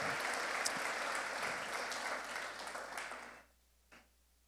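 A church congregation applauds its pastors, dense sustained clapping from a large crowd that fades and stops near the end, followed by a single faint sound in the quiet.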